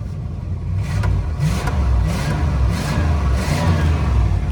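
Travco L'Esprit motorhome with a 440 V-8 big block engine running steadily as it warms up, a loud, continuous low rumble with slight swells in the revs and no one talking.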